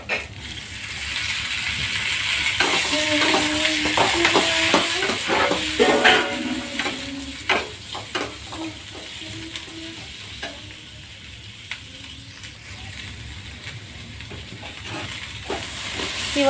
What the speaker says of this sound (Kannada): ಹಸಿ ಶುಂಠಿ, ಬೆಳ್ಳುಳ್ಳಿ ಇವನ್ನೆಲ್ಲನೂ ಸ್ವಲ್ಪ ಎಣ್ಣೆ ಹಾಕಿ ಹುರ್ಕೋತಾನೆ